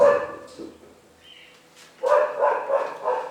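A dog barks in a few short yips early on, then fainter sounds, followed by a louder burst of barking or whimpering near the end, heard indoors alongside a physics lesson.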